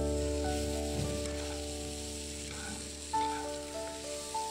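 Chopped sesbania flower stalks fry with potatoes and tomato in a pan, giving a soft, quiet sizzle beneath a steady tonal hum, with occasional light stirring sounds.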